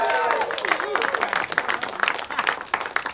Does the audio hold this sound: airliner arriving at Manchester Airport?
no